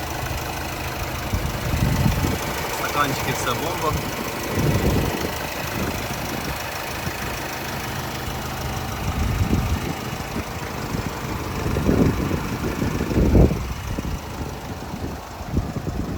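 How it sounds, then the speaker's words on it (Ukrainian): A 2011 Renault Trafic van's 2.0-litre engine idles with a low, steady rumble, with occasional knocks and bumps nearby; someone says a few words briefly. "Робота мотора просто ідеально працює."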